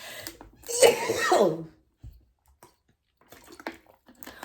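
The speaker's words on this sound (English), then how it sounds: "I've still got this stupid cough in my chest." A harsh, wet chest cough bursts out in a couple of loud fits up close, followed by quieter rasping breaths and faint throat noises.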